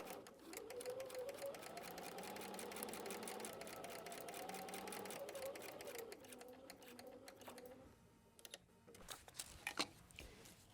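A sewing machine stitches fabric for foundation paper piecing, running in a fast, steady mechanical patter for several seconds before slowing into a few scattered clicks and thumps, close and fairly quiet.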